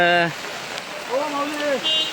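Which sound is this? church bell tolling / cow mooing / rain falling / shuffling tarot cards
rain falling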